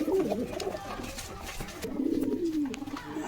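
A pair of pigeons kept for sale coo close by, with soft throaty rolling calls repeating over a light background murmur.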